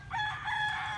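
A fighting rooster crows once, close by and fairly loud, in a short burst with no talk.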